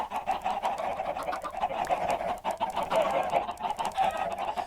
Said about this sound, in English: I wonder if it's the chickens what set off the reactor.